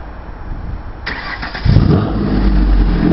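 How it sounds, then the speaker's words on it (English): A Ferrari F430 replica's V8 cranks with a brief whirr, then catches and fires into a loud, rumbling idle with a deep low-end roar that holds steady. "I can hear the V8 engine"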